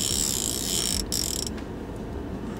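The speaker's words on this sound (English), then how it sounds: "the drag is so loud" A Daiwa Gekkabijin Air TW baitcasting reel's drag clicking in a rapid, loud ratcheting run that stops abruptly partway through, with no talking.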